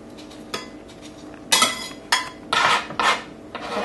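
Chopped onion and cilantro being tipped into a bowl and stirred for Mexican green sauce, with a utensil scraping and clinking against the dish in several short bursts.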